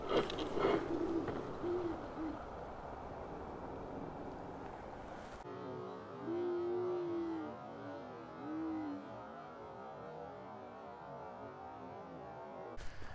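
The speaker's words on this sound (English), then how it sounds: "I'm seeing a guardian of the wash, an owl." An owl in a desert wash gives several soft, low hoots spread over a few seconds, set against a steady rushing wind or surf-like background that drops partway through.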